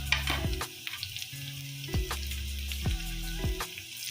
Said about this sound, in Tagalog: Lagay naman natin ang ating onion.